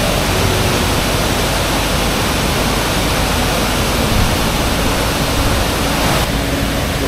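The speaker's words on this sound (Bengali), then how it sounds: "কি পরিমাণ শব্দ ছিল এই ওয়াটারফলসটার ওই দিন" Broadband roar of a swollen waterfall in Meghalaya after rain, a steady, loud, unbroken rush filling the whole clip with no voices.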